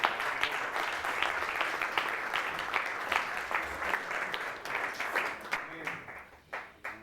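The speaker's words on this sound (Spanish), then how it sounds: "Dale un aplauso al Señor por eso." A congregation at a men's church convention claps together, a dense patter of hands that thins and fades into scattered claps toward the end, with voices mixed in.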